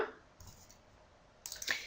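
A computer mouse clicks during a software tutorial. A few soft, sharp clicks sit near the start and middle, and a quicker cluster of louder clicks comes at the end, in a quiet room with no voices.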